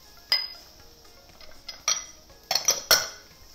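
Metal utensil clinking and scraping in a pan while tomato paste is stirred into a sauce for Singapore chili crab, with several sharp clinks near the end.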